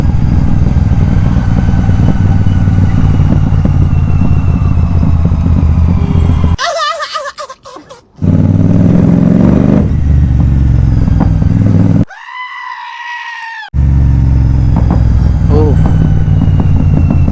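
A motorcycle hums along during a scenic ride, its engine and wind noise loud and steady, cut by two abrupt gaps; someone talks over the ride.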